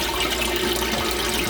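Water drains steadily through the PVC plumbing of a 135-gallon reef tank overflow, a continuous close rushing and gurgling flow with no voices.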